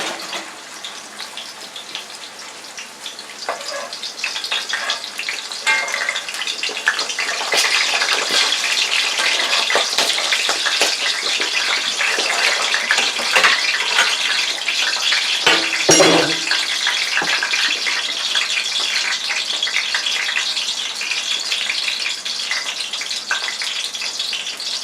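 Cheese ravioli frying in oil, six at a time, a dense hissing sizzle that swells after a few seconds and holds steady and loud, with a brief clatter near the middle and no talk.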